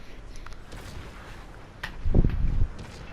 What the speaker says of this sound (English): So take another shot at him here and miss